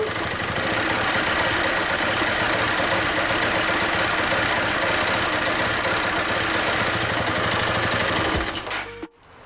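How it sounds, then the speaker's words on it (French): Engine of a Piaggio MP3 400/500 scooter with a charging fault, revved up to around 2000 rpm: a steady, loud mechanical drone with buzzing vibration held for about eight seconds, then cut off abruptly. "je vais accélérer un petit peu"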